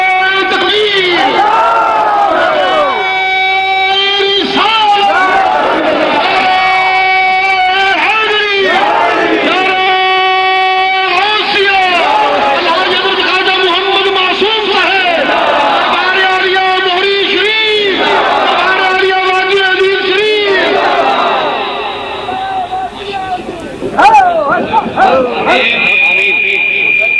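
A large crowd at a religious celebration gathering chants slogans in loud, rhythmic call-and-response bursts, voices swelling together in repeated waves that fill the space.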